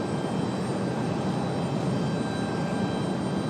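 An Aer Lingus jet departing Raleigh Durham International Airport makes a steady, loud roar of engine noise with a broad rushing hiss and a faint whine, continuous and unchanging throughout, with no voices.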